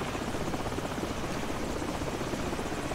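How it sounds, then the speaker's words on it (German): A helicopter from Call of Duty: Modern Warfare gameplay drones steadily throughout, a dense, continuous rotor roar at even loudness with no speech over it. "Wo ist der Hubschrauber?"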